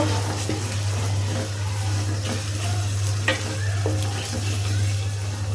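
Onion paste frying in a pan over a steady loud sizzle, with occasional soft stirring scrapes and a constant low hum underneath, no talking.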